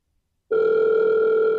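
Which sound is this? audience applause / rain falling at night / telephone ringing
telephone ringing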